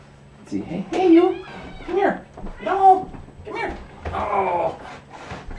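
A pet cat meows repeatedly and close by in an indoor room, four or five drawn-out, wavering calls in a row, with a person talking around them.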